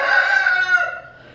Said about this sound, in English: Even Red, the free range rooster, is in here.